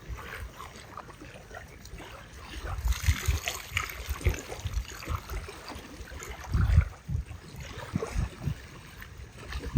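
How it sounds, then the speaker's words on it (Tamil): Raw chicken being washed by hand in water for a Chettinad chicken dish, with soft sloshing, trickling and splashing that swells and fades irregularly, fairly close and quiet, without talk. "சிக்கனை வந்து நல்லா வாஷ் பண்ணுவோம், நல்ல தண்ணியில் வாஷ் பண்ணுவோம்"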